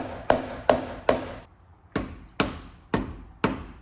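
Seven loud, sharp hammer strikes ring out on metal, spaced about half a second apart with a short pause after the third, each decaying quickly.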